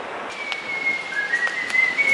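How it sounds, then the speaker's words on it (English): A person whistles a wavering tune outdoors on a street in SoHo, New York, the thin melodic notes close and clear over soft city background noise with a few faint clicks. "Love your whistling"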